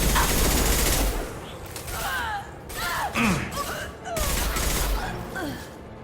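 Rapid bursts of armor-piercing gunfire from a Mass Effect 2 battle, a dense loud fusillade in two long stretches broken by a short lull, with sci-fi whooshes and effects layered over it.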